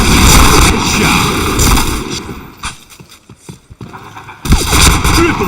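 Gunfire bursts in a tactical shooter video game, loud and dense at the start and end with scattered sharper shots in a quieter middle stretch.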